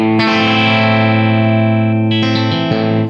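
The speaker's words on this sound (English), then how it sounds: "Now I'm going to show you how the amp sounds by itself." Electric guitar played through a cranked amp with natural gain and no pedal, loud sustained distorted chords ringing for a few seconds, then a couple of fresh picked notes near the end, close and alone.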